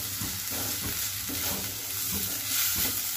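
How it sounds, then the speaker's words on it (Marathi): Tomatoes sautéing in a pan for papad chutney make a steady sizzle, with rhythmic stirring scrapes and soft clunks repeating through it. "टोमॅटो हे आपण 1-2 मिनिटासाठी परतून घेऊयात व्यवस्थित।"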